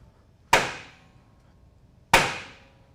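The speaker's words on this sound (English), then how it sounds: "using a suitable installer tool and a nice big hammer, you can take it and drive it right into place" Two sharp metallic hammer strikes on a bearing installer tool driving an axle bearing into place, about a second and a half apart, each ringing briefly before fading, with no talking.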